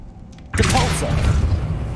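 A Depulso spell blast in the Hogwarts Legacy video game: a sudden loud whooshing boom after a brief quiet moment, followed by a sustained rumbling tail, with a brief vocal sound mixed in.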